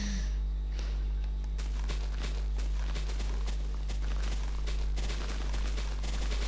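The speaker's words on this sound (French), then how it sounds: "Désolé pour le bruit hein, de feuilles." Leaves being broken in Pixelmon, a Minecraft mod, as a rapid stream of crunchy, rustling block-break hits over a constant loud low hum, with no talking.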